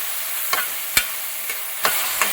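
Onions soften in a pan for a Kerala-style chicken stew, a steady frying hiss broken by about five sharp scrapes of a spoon stirring them.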